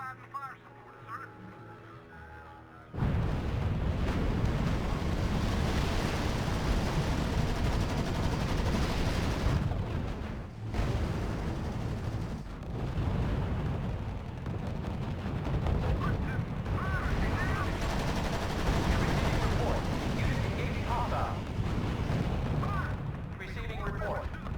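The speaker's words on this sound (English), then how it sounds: "Machine gun set and providing fire support, sir." Battlefield combat in the strategy video game R.U.S.E., with dense continuous machine gun and artillery fire rumbling loudly after a quiet start, punctuated by short dips, while a radio-style voice reports unit status over the din.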